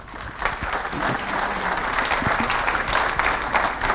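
Audience clapping after a presentation on a DFCI topic, a steady round of applause that builds quickly and holds for several seconds with scattered louder claps.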